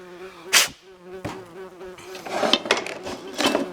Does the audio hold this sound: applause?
no